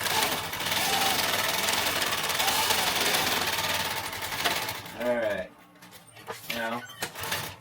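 A sewing machine stitches across backpack fabric in a fast, continuous rattling run for about five seconds, then stops, and someone speaks over brief short bursts of stitching.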